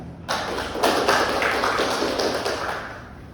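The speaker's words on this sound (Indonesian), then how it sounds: "Sekali lagi beri tepuk tangan untuk narasumber kita." An audience at a school talk on cyberbullying applauds the speaker. A steady burst of clapping starts abruptly and carries on evenly, fading slightly toward the end.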